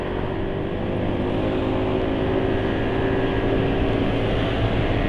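An engine idles steadily after WEPP 2111 additive has been added, giving a continuous, even hum with a low, constant drone and no change in pitch or level throughout.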